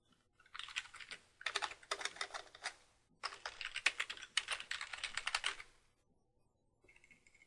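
Rapid typing on a computer keyboard, close and steady, in several bursts of clicking keys with brief pauses between, then a faint final few taps after a short silence.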